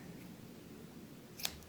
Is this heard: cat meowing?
no